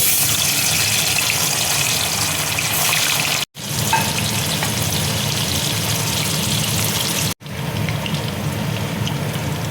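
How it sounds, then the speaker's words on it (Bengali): Paneer pieces frying in white oil in a wok, a loud, steady, close hissing sizzle that runs throughout with two brief dropouts, no voices. "এবার আমি পনিরগুলো তেলে ভেজে নেব।"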